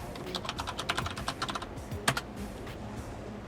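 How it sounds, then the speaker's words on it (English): Rapid clicks of fingers typing an email address on a computer keyboard, a close, uneven burst of keystrokes with one sharper tap near the end before a quiet pause. "I'm typing in my email address"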